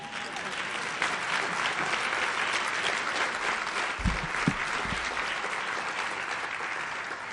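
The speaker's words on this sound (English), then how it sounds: "let's give him one more round of applause right here" Sustained applause from an audience at a youth recognition awards ceremony, a dense even wash of clapping at steady loudness, with a brief low thump or voice murmur partway through.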